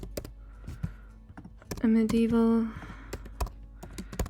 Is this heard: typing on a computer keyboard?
yes